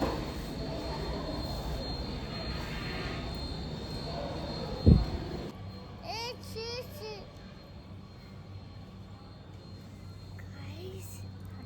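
A metro train rumbles steadily with a sharp thump partway through, then quiets as someone talks over the lower hum of the carriage.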